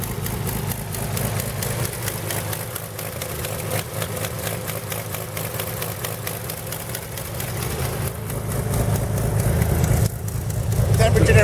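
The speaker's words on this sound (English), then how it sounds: "That's the sputtering that you hear. There's a leak." A 1917 Buick E-49 engine with a leaking copper gasket runs with a steady, rough sputtering chug that swells louder toward the end, with a voice talking over it.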